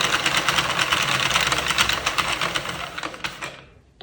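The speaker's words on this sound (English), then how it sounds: "start turning the machine" A Sentro knitting machine cranked by hand, giving a dense run of rapid rattling clicks that stay loud and close for about three seconds before thinning out and stopping.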